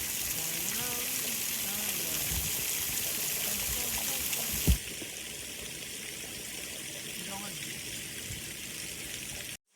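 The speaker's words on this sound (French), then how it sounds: "Ici, la cascade en question, elle fait au moins 15 mètres." A high waterfall, a cascade at least 15 metres tall, roars as a steady, dense wash of falling water through the whole stretch, with faint voices briefly under it at the start.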